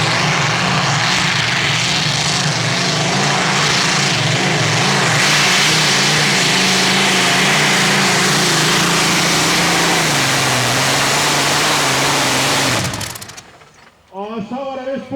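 Modified pulling tractor Voldsom Volvo making a full pull at the Tractor Pulling Euro Cup in Herning, a loud, sustained engine roar lasting about thirteen seconds before cutting off abruptly, followed by brief fading rumble and crowd noise.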